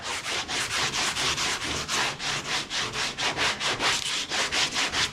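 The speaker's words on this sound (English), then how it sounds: "Now you don't want to sand it all the way down until it's completely smooth like this." Sandpaper scrubs back and forth over hardened body filler on a 1970 Chevy, a steady run of rhythmic rasping strokes, close and fairly loud, with no voices.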